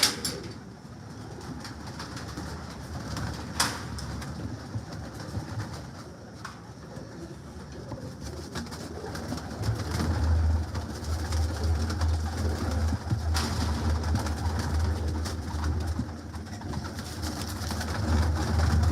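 A large flock of pigeons in an open aviary with netting laid below coos softly and steadily, with scattered wing flutters and small knocks over a low rumbling background that swells partway through.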